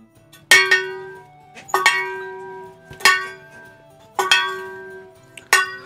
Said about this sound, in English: you start to hear the ringing of a bell.